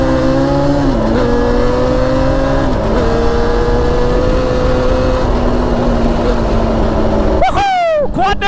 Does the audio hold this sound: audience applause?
no